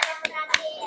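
In a classroom, students clap for a student group. A few distinct, close, sharp claps come at uneven intervals against a quiet room.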